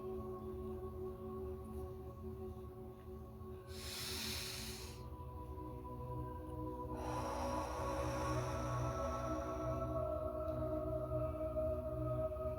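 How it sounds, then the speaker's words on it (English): A slow, deep breath during a guided breathing exercise, heard as a soft breathy rush that swells and fades, then a longer airy exhale over a quiet background hum; no talking. "We're going to take the second breath."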